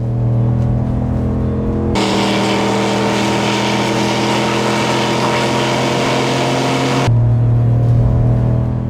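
A big V8 half-ton truck engine roars loudly and steadily for several seconds after a lower idle rumble, then settles back to a deep idle.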